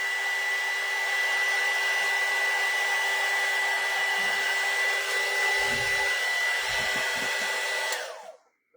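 A hair dryer blows steadily on craft snow, a loud continuous whoosh with a whine that runs for about eight seconds before switching off, with a few faint low bumps partway through.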